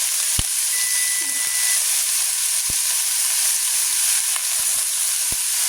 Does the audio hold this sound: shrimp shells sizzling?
yes